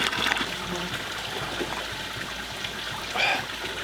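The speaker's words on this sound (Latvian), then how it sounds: "Zinātnieki skaidro, ka šī skaņa rodas ūdenim gāžoties Pazemes ezerā." Underground water falling into a subterranean lake, a steady trickling, splashing rush with gurgling bursts, moderately faint and continuous with no voices.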